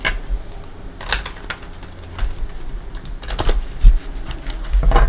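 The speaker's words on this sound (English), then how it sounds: "Already pre-shuffled, but I'm going to shuffle it." Light shuffling of tarot cards, soft riffles and taps coming in short bursts, close and fairly quiet.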